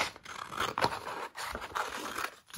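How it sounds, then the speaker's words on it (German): Scissors cutting out a piece of patterned paper at a craft table, heard as close, repeated snipping and scraping strokes with short pauses between cuts. "Das schneide ich mir jetzt mal aus."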